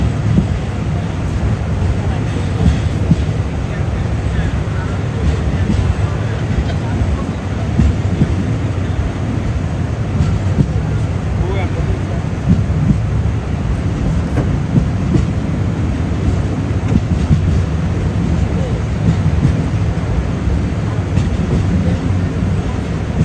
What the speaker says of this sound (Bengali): এক্সপ্রেস এই মুহূর্তে ছেড়ে যাচ্ছে আখাউড়া রেলওয়ে স্টেশন থেকে।